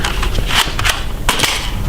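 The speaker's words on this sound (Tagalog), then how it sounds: "ba't niyo ako binaril?" Sharp cracks from a toy gun fire in quick, close bursts, a few loud snapping shots with short gaps between them and no talk over them.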